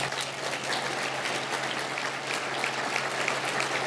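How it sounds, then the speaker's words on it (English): Dense applause from an audience at a county economic development annual meeting, a steady wash of many hands clapping throughout, with no talk. "a round of applause"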